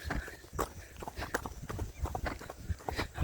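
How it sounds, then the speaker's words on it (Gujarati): Steady, irregular clip-clop of a ridden mare's hooves on hard ground, close and moderately quiet, in a continuous walking rhythm with no voices. "અત્યારે મિત્રો આપણે હોર્સ રાઇડિંગ કરી રહ્યા છીએ ઘણા સમય પછી"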